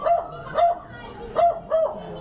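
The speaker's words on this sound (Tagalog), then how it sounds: "Ang dami aso." Dogs bark nearby in four short, sharp yelps spaced about half a second apart, fairly loud, with faint background noise between them.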